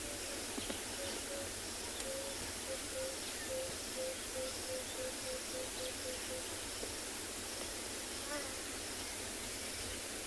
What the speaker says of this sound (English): That's the blacksmith lapwing.